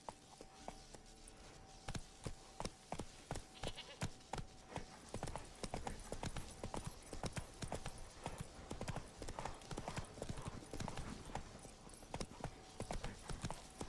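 Roach the horse's hooves pound in a steady clip-clop gallop in The Witcher 3, loud and close, with a constant game ambience under the rhythmic beats.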